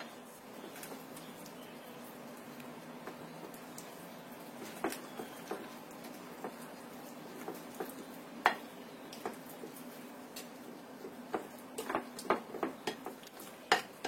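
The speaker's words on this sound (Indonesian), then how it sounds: "Ini kita aduk lagi sampai tercampur rata." Butter or margarine being stirred with an egg yolk in a bowl for Eid cookie dough, giving soft, steady scraping with scattered light clinks of utensil against the bowl throughout.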